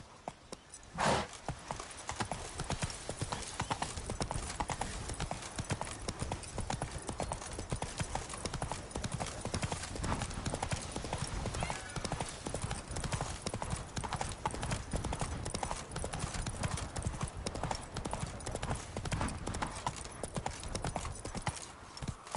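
Rapid, steady clip-clop of a galloping horse's hooves in The Witcher 3, dense and continuous at close range, with a brief voice near the start.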